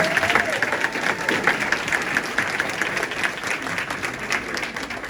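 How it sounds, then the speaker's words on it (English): Sustained audience applause for a group of high-school seniors at a school contract-signing event, steady and fairly loud clapping from a sizeable crowd, with no talk over it. "Let's give them another round of applause."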